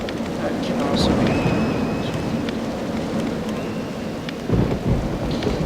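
Heavy rain pours steadily in Roller Coaster Tycoon 3 with rolling thunder rumbling through, a loud dense wash with a sharper thunder swell near the end.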